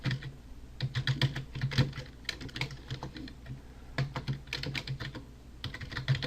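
Quiet, close typing on a computer keyboard, irregular bursts of clicky keystrokes with short pauses, no voices.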